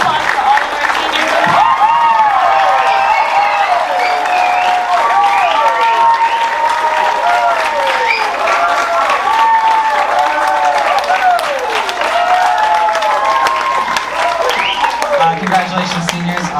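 Long, sustained ovation for seniors at a school music awards event: steady thick clapping throughout, mixed with cheering, whoops and lively voices calling out from the crowd.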